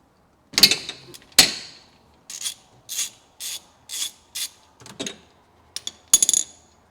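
A wrench cracks loose the oil drain plug on a Polaris RZR 200 side-by-side: two sharp close metallic snaps, then a run of short, evenly spaced rasping ratchet strokes and a final clatter, with no talk.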